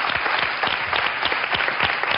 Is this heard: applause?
yes